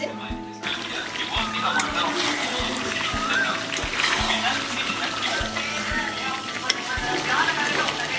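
Meat and fried potatoes sautéing together in a pan for a village-style chicken kosha, a steady close sizzle with stirring scrapes and occasional thumps running throughout.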